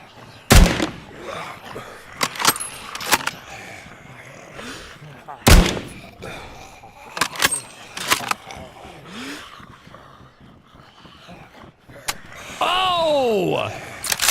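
Sparse, sharp gunshots from a weapon fitted with an improvised bottle suppressor in DayZ, a handful of muffled cracks spaced irregularly, followed near the end by a rising, whining mechanical tone.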